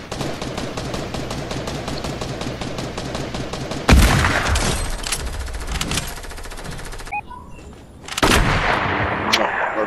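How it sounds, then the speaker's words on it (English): Sharp gunshots crack in a video game battle, the sniping shots standing out, with dense rapid fire running steadily before louder bursts break in midway and again near the end. "somebody's sniping at me"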